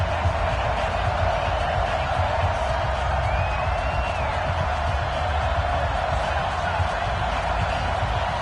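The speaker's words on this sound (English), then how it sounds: "This crowd is ready" A stadium crowd roars steadily at a Cowboys versus Lions game in Madden 20, a dense, constant wash of cheering with a brief whistle-like whoop rising above it.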